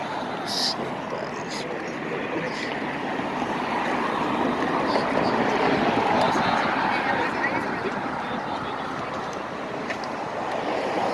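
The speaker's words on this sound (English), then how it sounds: "there's a nice, like, a waterfall here" A waterfall outdoors produces a steady broadband rush of falling water that continues without a break, while a person talks over it.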